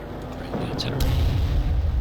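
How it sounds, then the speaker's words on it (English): Artillery fire in the World War II strategy game Panzer Corps, a muffled boom followed by a sustained low rumble, loud and close, with a voice speaking over it. "Bring the artillery."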